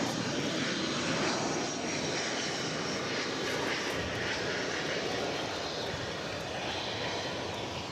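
An airplane passes at DFW Airport, where UPS cargo planes come and go, its engine roar loud and steady throughout with no voices.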